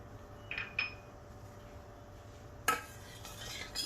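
A spoon stirs sugar and cardamom into milk for sabudana kheer, giving a few light metallic clinks against the pot, then a louder scrape and clatter near the end over quiet background hum.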